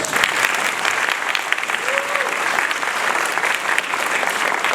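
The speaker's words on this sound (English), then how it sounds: "Give them a round of applause" Audience applause for volunteers at an Islamic lecture event, a steady wash of clapping from a crowd that holds evenly for the whole stretch, with a faint voice briefly audible in the mix.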